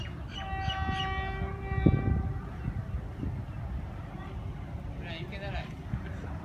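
An express train hauled by the 47up Rehman Baba sounds a long multi-tone horn, then rumbles steadily through Chaklala Railway Station, Pakistan, with a low continuous roar and faint voices in the background.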